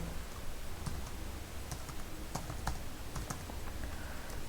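Keys clicking on a computer keyboard as a label is typed into a MATLAB GUI editor, a close, quick run of irregular taps with no talk over them.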